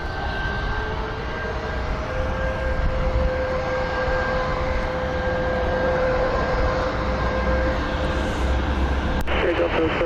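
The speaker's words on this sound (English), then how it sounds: "we are watching Southwest 1576. They are heading to Orlando in a 737 MAX 8" A Southwest Boeing 737 MAX 8 jet, heading out at an airport at sunset, gives a steady, sustained jet roar with a high whine running through it, fairly loud and continuous, and it changes character near the end.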